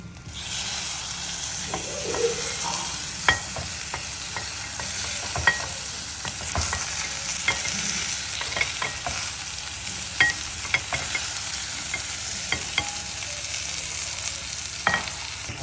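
Tomatoes sizzle in a hot pan while a spoon stirs them, with steady frying hiss and sharp scraping clicks scattered through the whole stretch, close and moderately loud, no voices.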